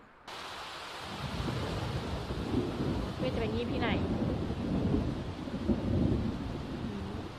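Game rain and rolling thunder from a storm in The Sims 4 play steadily throughout, with a voice talking over the downpour.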